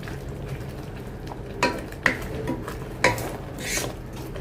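Sweet vermicelli with powdered milk being stirred in a pot, a low simmering hiss broken by a few sharp scrapes and clinks of a spoon against the metal.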